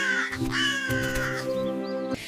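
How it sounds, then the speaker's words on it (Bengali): Crow cawing as a story sound effect, two or three harsh, drawn-out caws one after another, loud and close with no talk. "চড়ুইয়ের গাছের সামনের গাছে থাকত এক কাক"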